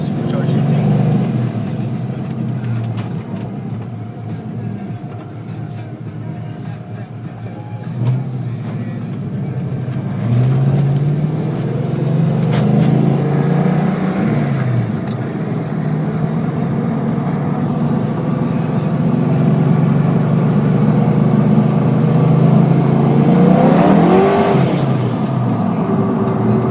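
A supercharged 2000 Ford Mustang GT engine drones steadily while driving, with rising revs and a louder surge near the end, under a voice talking over it.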